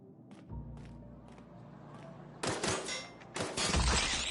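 Gunfire in The Outer Worlds video game: a few light shots are followed by heavier, louder bursts of rapid fire near the end, amid other game sounds.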